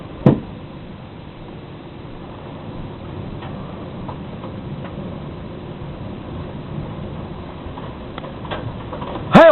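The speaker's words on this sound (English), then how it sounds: "I hear hail. I hear hail." Hail falls during a storm, with scattered sharp ticks and taps over a low, steady rushing background and a couple of louder bangs near the start and end.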